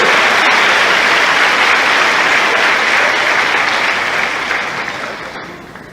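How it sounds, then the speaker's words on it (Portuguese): Sustained, loud applause from a church congregation during a sermon, a dense wash of clapping that holds steady for several seconds before easing and fading toward the end. "Você pode aplaudir a Deus por isso?"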